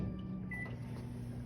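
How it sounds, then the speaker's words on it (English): A microwave oven heating a glass measuring cup of water runs with a faint, steady low hum and whirr, close by and without talk. "So I'm putting it into the microwave,"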